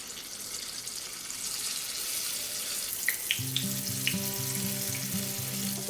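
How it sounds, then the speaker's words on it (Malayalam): Unniyappam batter poured into hot coconut oil in an appam pan sizzles with a steady close crackle, and soft melodic tones come in about halfway through under the frying, with no one speaking. "ഉണ്ണിപ്പച്ചട്ടിയിൽ വെളിച്ചെണ്ണ വെച്ച് നന്നായിട്ടൊന്ന് ചൂടാക്കി എടുത്തിട്ടുണ്ട് ഇതിലേക്ക് മാവ് ഒഴിച്ചു കൊടുക്കാം"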